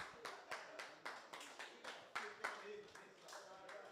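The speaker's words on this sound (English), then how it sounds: "Let's just give brother Allen another round of applause." An audience applauds brother Allen with quiet, evenly paced claps in a regular rhythm that repeats steadily from start to finish.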